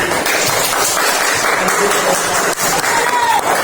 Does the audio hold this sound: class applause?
yes